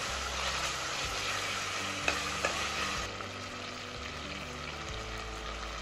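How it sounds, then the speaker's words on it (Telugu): Ginger-garlic paste fries in a pan for a Telangana-style spicy country chicken curry, giving a steady, close sizzle with soft stirring scrapes throughout and a couple of brief clinks. "అల్లం వెల్లుల్లి పచ్చివాసన పోయే వరకు వేయించుకున్నాను."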